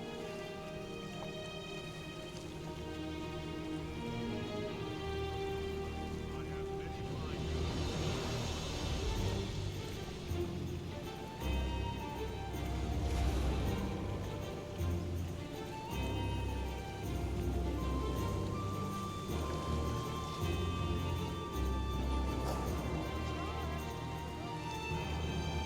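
Steady rain ambience from a livestream's rain screen, a continuous hiss and patter that swells slightly midway and holds at a moderate level throughout, with faint tonal background sounds mixed in.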